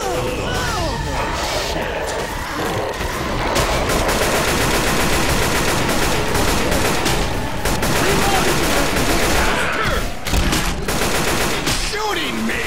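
Dense, continuous automatic gunfire from the game Left 4 Dead 2 rattles loudly throughout, with overlapping bursts and occasional voices talking underneath.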